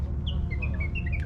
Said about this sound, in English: Oh, you hear the birds singing.